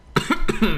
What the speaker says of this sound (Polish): Kaszle.